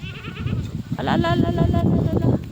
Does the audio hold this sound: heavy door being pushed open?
no